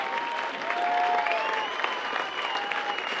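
A crowd at a boxing match applauds steadily, a dense wash of clapping that holds at an even level from start to finish, with faint whistles mixed in.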